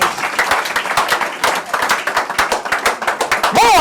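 A church congregation claps hands together in a steady, loud, dense rhythm of sharp claps, sustained throughout, with a voice rising briefly at the very end.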